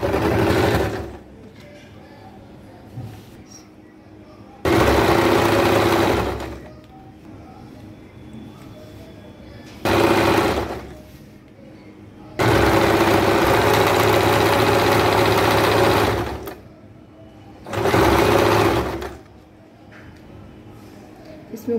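A sewing machine stitches a petticoat in several loud bursts of rapid whirring, each a few seconds long, with pauses between them where someone speaks.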